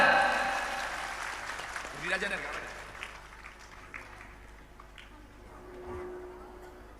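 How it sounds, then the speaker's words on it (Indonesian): An audience at an event claps for a regional police chief. The applause is loudest at the start and fades over a few seconds, with someone speaking briefly amid the room noise. "kita tepuk tangan yang meriah untuk Bapak Kapolda"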